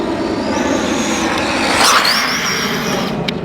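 An RLAARLO AK-787 RC car runs flat out at full throttle, a loud, close, sustained high electric motor whine with a rising and falling pitch sweep over rough tire noise.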